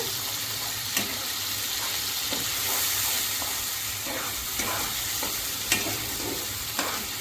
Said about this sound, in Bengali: পেঁয়াজটা নাড়াচাড়া করব